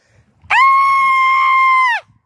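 A person lets out one loud, sustained, high-pitched scream for scream therapy. It lasts about a second and a half, opens abruptly and cuts off cleanly, with quiet before and after.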